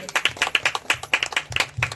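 Audience clapping at a church fellowship gathering during a sermon, a dense run of sharp hand claps at moderate loudness, fairly steady for about two seconds, with faint voices mixed in.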